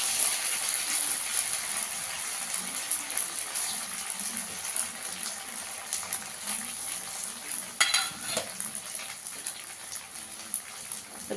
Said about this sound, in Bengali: এবার এটা ভেজে নেব। গ্যাসের আঁচটাকে কম করে দিয়ে ভেজে নেব।